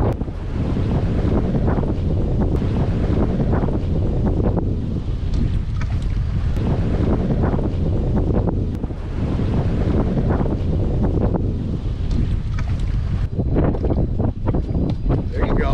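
Strong wind buffets a fishing boat out on open water, a loud, steady roar with gusts and microphone rumble, waves slapping against the hull, and a voice speaking now and then underneath.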